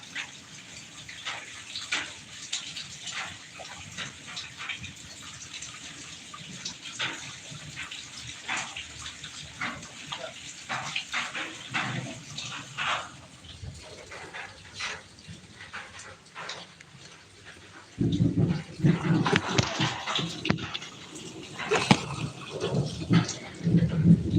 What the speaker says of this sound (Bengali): আজকে বাইরে প্রচুর বৃষ্টি হচ্ছে এখন এই টাইমে